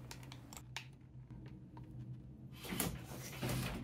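A LEGO-built motorized smart lock unlocks an office door: a sequence of light clicks gives way to a short whirring, grinding motor burst with a second rasping push at the end.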